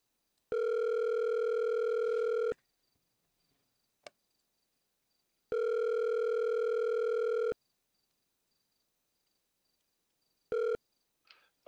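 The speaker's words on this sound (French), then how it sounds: "Je vais essayer d'appeler cette personne." Ringback tone of a telephone call being placed, two long steady beeps separated by a few seconds of silence, then a short third beep cut off as the line connects, with faint clicks between.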